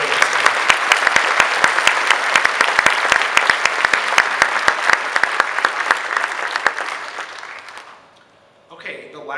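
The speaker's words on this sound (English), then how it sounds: "if you could just give them a round of applause for joining us" A concert audience gives a steady round of applause, dense clapping with a few sharp nearby claps standing out, which dies away near the end before a brief sound returns.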